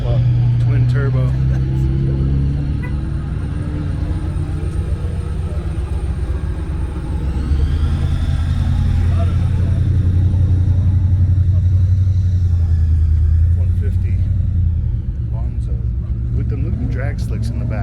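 A twin-turbo car engine rumbles at a car show, a loud continuous low idle drone with a slight rise in pitch partway through, while people talk nearby.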